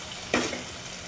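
Onions sauté in a pan for fish curry, a soft continuous sizzle with one brief scrape of stirring near the start.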